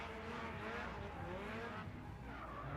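A Scion tC drift car slides hard through the clipping zone at a nighttime Formula Drift round in Las Vegas, a loud sustained tire squeal blended with a roaring engine across the whole stretch.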